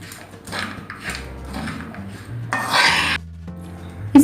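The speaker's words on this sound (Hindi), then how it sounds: "और सभी को मिक्स कर लेते हैं।" Spoon scraping and rasping against a pan while coriander panjiri is stirred together with crushed cardamom and raisins, a few uneven strokes, close and fairly loud, with a sharp clink at the end.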